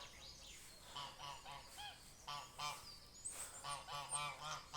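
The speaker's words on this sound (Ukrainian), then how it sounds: "Такі гусочки." Several domestic geese honk in loud, repeated bursts, close by on a farmstead, with short pauses between calls and a busy outdoor background.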